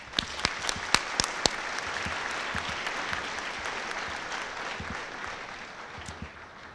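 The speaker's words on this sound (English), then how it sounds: "I want to give you a big round of applause for that." An audience applauds at an eighth grade recognition ceremony, a steady wash of many hands clapping with a few sharper claps standing out near the start, holding even and fairly close for several seconds without talk.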